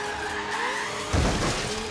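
A Ford car drifting in Forza Horizon 3 on a manual gearbox, engine droning steadily before a sudden loud tire skid and squeal erupts midway and carries on, close and intense with no talking.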